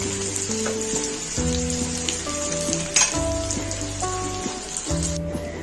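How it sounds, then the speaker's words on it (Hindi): Chicken ghosla kebabs fry with potato on a slow flame in an Indian kitchen, giving a steady, close oil sizzle and crackle under continuous background music. "बाकी हम ऐसे ही कबाब फ्राई करेंगे"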